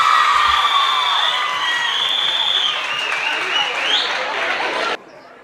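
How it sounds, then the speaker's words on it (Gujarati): Loud audience applause mixed with cheering and whoops from a crowd at a community sneh milan gathering after a garba performance, sustained steadily for about five seconds before cutting off abruptly. "તાળીઓથી વધાવીને."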